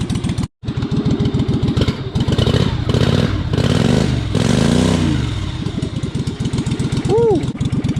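A race lawn mower engine idles loudly and close with a lumpy, pulsing rhythm and a few revs in the middle, while a voice speaks and whoops over it.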